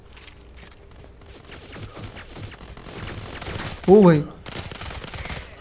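Gunfire in the mobile shooter Modern Combat 3 crackles in scattered bursts under a voice, ending with a loud close shot or impact near the end.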